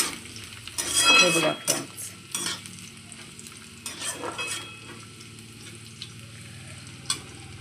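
Curry leaves, cumin and mustard seeds hit hot oil in a pan, giving a sharp burst of sizzling and crackling, then quieter intermittent spluttering with occasional stirring clinks of a utensil.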